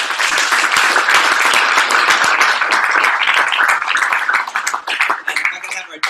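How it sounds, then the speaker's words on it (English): Audience applause at a 2017 company branch event, a dense, sustained burst of many hands clapping close by for about six seconds, with voices and cheers mixed in before it thins out at the end. "Let me give a big round of applause for our branch."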